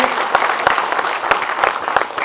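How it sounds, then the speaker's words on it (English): Applause from the audience at a film panel discussion, dense clapping with individual claps standing out, loud and steady throughout. "I really want a huge round of applause for Mr. Mehra"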